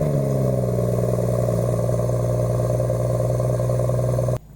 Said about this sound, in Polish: Wydech świetnie brzmi też z rana, jak odpalamy auto na zimno.